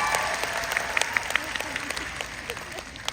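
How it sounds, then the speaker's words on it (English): A fan-meeting crowd in Manila applauds steadily at moderate distance, a dense wash of clapping with scattered sharper individual claps standing out throughout. "so all we can do is applaud."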